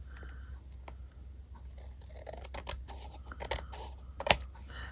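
Scissors trimming paper while making a paper craft with pockets, a scatter of soft snips and rustles building to one sharp cut near the end, close by with no voices.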